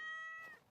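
A cat in the Stardew Valley game gives a single short, faint meow with a tonal, slightly falling pitch that fades out quickly, with no talking.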